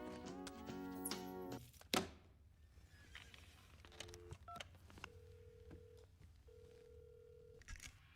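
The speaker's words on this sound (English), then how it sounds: "Hang up the phone, Dallas" Telephone keypad dialing in a movie scene: a series of short distinct tones after some clatter and a sharp knock, with a handset noise and quiet room tone between.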